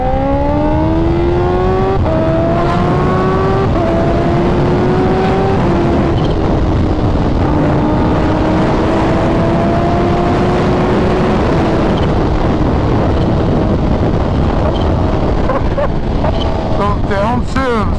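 A sport motorcycle engine revs and downshifts in a series of stepped, crisp pitch drops, heard loud and close over heavy wind rush from riding.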